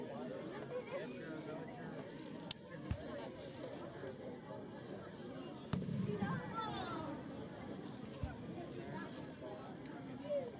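Fireworks going off outdoors: a few sharp, distant bangs spaced several seconds apart, heard under continuous crowd chatter and nearby conversation.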